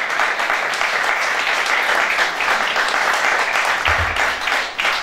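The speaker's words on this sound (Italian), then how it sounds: "Applauso speciale per Nino." A studio audience on a football television programme gives boxer Nino La Rocca sustained applause, a loud, thick roar of many hands clapping at once that carries on for about five seconds, with a brief low thump near the end.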